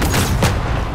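MP5 submachine gun fire in a first-person shooter game, a brief, dense burst of rapid shots lasting about a second, loud and close.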